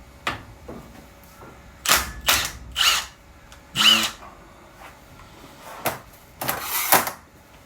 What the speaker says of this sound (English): You need to use a rattle gun.